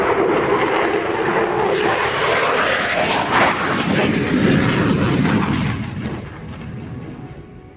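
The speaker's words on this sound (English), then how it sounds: "This is Soloturk. As you heard, it's Soloturk, the F-16." An F-16 fighter jet of the Soloturk display team roars loudly at an airshow, a sustained, powerful engine rumble with crackling bursts that holds steady and then fades somewhat near the end.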